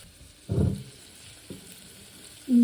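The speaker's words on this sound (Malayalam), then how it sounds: "അതും കൂടെ ചേർത്തിട്ട് ഇതൊന്ന് വഴറ്റി കൊടുക്കാം" Crushed ginger and garlic hit a hot pan with short bursts of sizzling, a brief sizzle, a faint second one, then another starting, in a quiet kitchen without talk.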